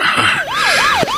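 An ambulance siren wails loud and close, its pitch sweeping up and down in rapid repeated cycles with nothing else audible.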